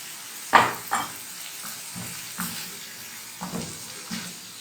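Vegetables frying in a pan with black pepper, chopped red chili, paste and sauce for a vegetable pancake, a steady sizzle broken by several stirring scrapes and knocks of the utensil against the pan.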